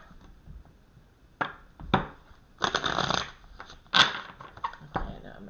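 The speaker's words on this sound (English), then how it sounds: "Shuffle one more time." Tarot cards are shuffled in several quick riffling bursts with short pauses between, close and crisp in a quiet room.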